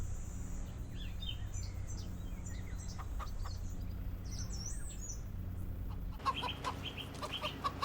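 Chickens clucking in the farming video game Farming Simulator 25, scattered soft clucks and calls over a low engine-like rumble, growing busier and more frequent near the end.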